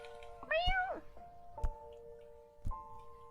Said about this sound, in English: The cat walking on my journal right now.